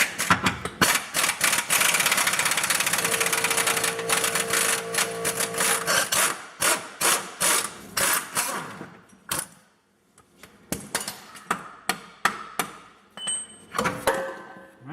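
A pneumatic impact wrench works on front control arm bolts of a Jeep WJ with a Dana 30 axle, running in long buzzing bursts at first and then in short repeated rattling pulses, close and loud, with a brief pause partway through.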